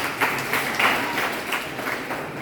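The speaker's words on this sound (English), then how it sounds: "Clap for yourself if you ever read." College students at a career day address clap together in a room, a brief, moderately loud patter of hands in uneven bursts that fades after a couple of seconds.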